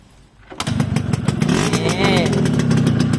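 A Yamaha RXS115 motorcycle engine starts after a short quiet moment, then runs at a steady, loud idle with a throbbing low rumble close by.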